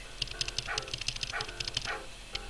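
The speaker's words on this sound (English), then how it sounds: "Let's talk to Fang first. He's my fave. Bark, bark" Hagrid's boarhound barks in a Harry Potter role-playing video game, a run of quick, moderately loud barks repeating in a steady rhythm over low game background sound.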